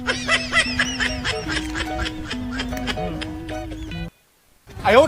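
A goose honks repeatedly in a series of nasal, harsh calls at close range, loud and rhythmic, ending with a brief silence before noise resumes.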